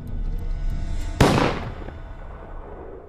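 An air cannon fires fake blood behind an actor's head for a gory splatter effect, giving a single sharp, loud burst that decays over about a second above a steady low background rumble.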